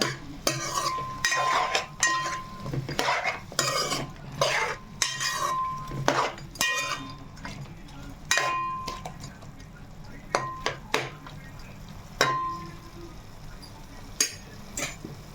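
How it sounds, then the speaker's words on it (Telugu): Chicken masala paste is stirred around a pan with a metal spoon, making repeated scraping clinks against the vessel in uneven bursts over a soft sizzle, with no talking. "చక్కగా అటు ఇటుగా కలుపుకుంటే అలా అలా"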